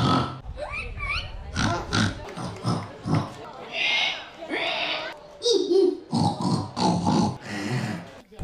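Children and adults take turns mimicking a pig's squeals and grunts at a village pork festival contest in Estissac, loud, strained vocal bursts one after another, with crowd noise and voices between attempts.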